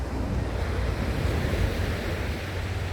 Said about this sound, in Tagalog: dinig ang alon, di ba guys?